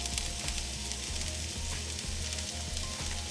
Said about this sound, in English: I am going to saute my onions and my garlic just a little